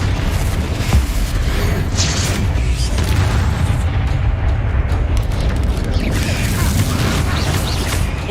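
Confringo blasting spell explosions in the video game Hogwarts Legacy, a dense run of loud, overlapping booms and bursts that rumble continuously with no gaps.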